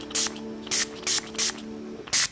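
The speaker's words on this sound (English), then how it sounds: "I'm going to spray them." Hardening spray is sprayed onto freshly gelled nails in five short bursts, each a close, bright hiss of about a fifth of a second, separated by brief pauses over a faint steady hum.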